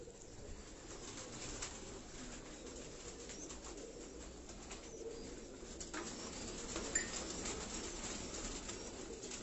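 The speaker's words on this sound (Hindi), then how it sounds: "ये आपने इन कबूतरों का शौक किया होगा, खाकी कमगर ब्रीड के ये कबूतर" Khaki Kamgar pigeons coo softly in a breeding loft setup, low murmuring calls layered over a faint continuous background hum, with occasional rustles and a brief flutter of wings, no voices.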